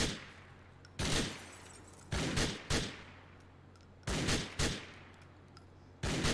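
Bursts of gunfire from GTA IV story mode: several short, loud volleys of rapid shots separated by brief pauses, sharp and close, with no talking over them.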